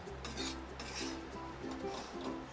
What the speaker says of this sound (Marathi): आता ह्याला असं चांगलं हलवून घ्यायचं.